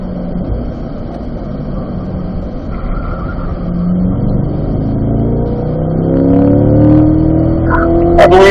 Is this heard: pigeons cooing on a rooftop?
no